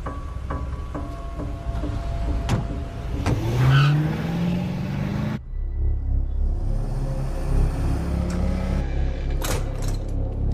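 A car drives past and accelerates, its engine rising in a loud revving sweep before settling into a steady rumble, with background noise throughout.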